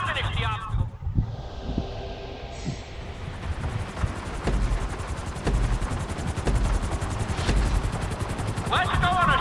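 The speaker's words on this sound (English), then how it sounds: "We're going to put you in a helicopter for this lesson" A helicopter in GTA V flies through a flight school lesson, rotor thrum and wind rush building steadily with a rhythmic chop, overlaid by brief mechanical clicks and a spoken voice.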